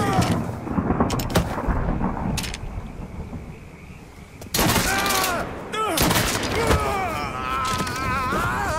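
Heavy gunfire in Mafia 3 rings out in dense, overlapping bursts, loud and close, with rumbling reports that keep going throughout, alongside shouted voices and game sound effects.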